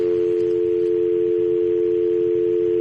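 A telephone line holds a steady, loud, continuous tone throughout while the number is dialed, unbroken from start to finish with no speech.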